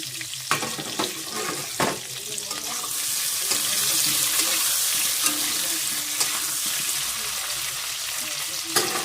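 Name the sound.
frying potatoes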